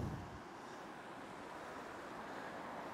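Water pours steadily from a Platypus collapsible water tank in an outdoor setting, producing a constant, fairly loud rushing flow with no speech over it.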